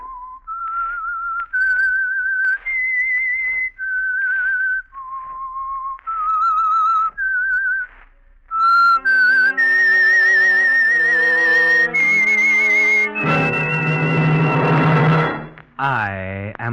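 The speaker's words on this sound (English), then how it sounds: "That whistle is your signal for the Signal Oil Program" A clear, sustained whistled melody of long held notes stepping up and down, then joined by a loud orchestral swell, the opening signal tune of the radio drama The Whistler.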